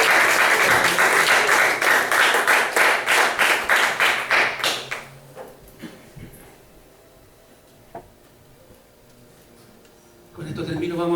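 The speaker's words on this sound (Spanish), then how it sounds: "Dele un aplauso al Señor" A church congregation at a Spanish-language service applauds with loud, steady, rhythmic clapping for about five seconds. The clapping then dies away into a quieter room with a few scattered sounds, and a voice rises near the end.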